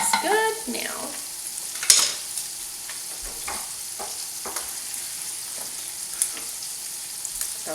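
Butter sizzling in a pot for potato soup while it is pushed around, a steady frying hiss with a few sharp scrapes and clinks.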